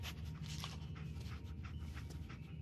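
Dogmeat, the dog companion in a video game, pants and sniffs rapidly and steadily up close, with a low rumbling drone beneath, and no talking.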